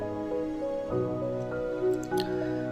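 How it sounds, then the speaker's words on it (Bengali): Hot water is poured into spice masala being fried for chicken liver bhuna, giving a short liquid pour with soft drips and wet squelches at moderate level, close by, with no talking. "সামান্য একটু গরম পানি দিয়ে নিচ্ছি"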